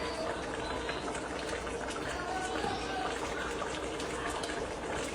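Haitian bouillon broth being ladled into a bowl, a steady wet liquid pour and slosh running throughout at close range, with no voices.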